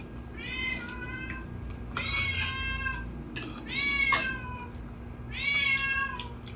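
A cat meows repeatedly, four drawn-out rising and falling cries spaced a second or so apart, close by over a faint steady hum.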